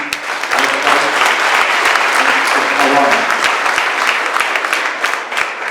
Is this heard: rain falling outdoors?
no